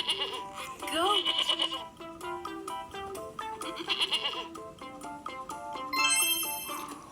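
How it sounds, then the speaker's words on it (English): A goat bleats over and over, each call wavering and nasal, loud and close, with short gaps between the cries. "Goat. Goat. Goat."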